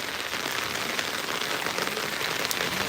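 Rain falling steadily outdoors, a dense, even hiss of drops striking surfaces, close and continuous with no breaks or voices.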